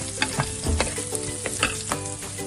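Ginger, garlic and curry leaves sizzle and crackle in oil in a pan for a Kerala sardine fish curry, a steady close frying hiss with sharp pops and stirring clatter throughout, no voices.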